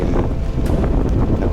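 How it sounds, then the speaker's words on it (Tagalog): Strong gusting wind at a high peak campsite, a loud steady roar with heavy buffeting on the microphone and no voices. "sobrang lakas ng hangin"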